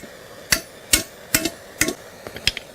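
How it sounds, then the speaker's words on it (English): Hammer blows on a chrome clad wheel cover, six sharp metallic strikes spaced about half a second apart, the last few quicker and lighter, close and clear against a quiet background. "So then you can start hammering it out"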